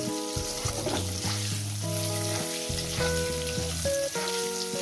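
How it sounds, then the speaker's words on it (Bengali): Potato pieces fry in oil in a pan, a continuous close sizzle with a faint stirring texture and no talking. "মিনিমাম 5 মিনিট ধরে আমি আলুগুলো ভেজে নেব"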